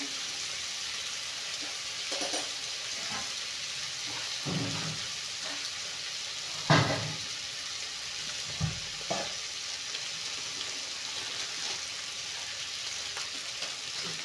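Food frying in hot oil makes a steady, even hiss throughout, broken by a few soft stirring knocks.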